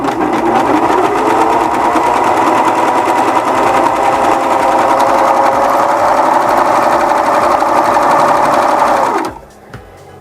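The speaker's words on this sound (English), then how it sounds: "I can just lay it against the edge here and run my serger, not trim off anything" A serger runs a seam along fabric edge, a loud, close, steady high-speed mechanical whirr for about nine seconds before it stops abruptly.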